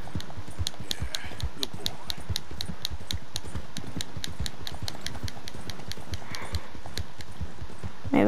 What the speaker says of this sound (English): Jeez, this horse goes fast.